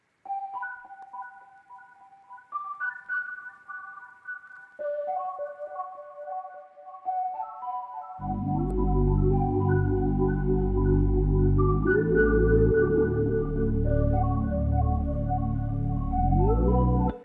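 Dreamy lo-fi piano sample processed with flanger, halftime and compression, soft melodic notes alone at first, then joined midway by a loud, dense low-end layer that thickens the mix to the end.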